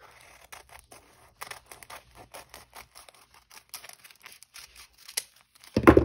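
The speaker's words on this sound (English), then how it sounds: "I just line them up together like this, and then I cut them" Scissors snip through lined-up plastic packaging bags, a quick series of close crisp cuts with light crinkling, ending in a louder rustle.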